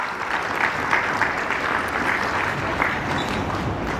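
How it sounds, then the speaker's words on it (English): Steady clapping from an audience at a youth professionals forum, a sustained round of applause with a few louder claps standing out. "A round of applause for her."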